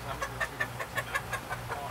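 A chicken clucks in a quick, regular run of short, close calls, about ten in under two seconds, over a low background hum.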